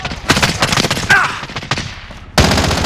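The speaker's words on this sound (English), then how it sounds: "This sounds like a DMR." Rifle fire, a DMR in the Call of Duty: Modern Warfare video game, rattles off in loud rapid volleys of shots that tail off briefly before another burst.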